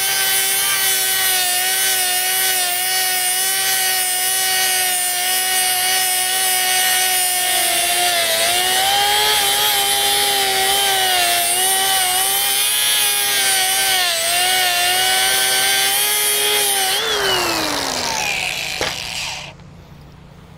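An angle grinder fitted with a flap disc sands down a weld, a loud sustained whine with steady tonal harmonics that wavers slightly before the tool spins down and fades at the end.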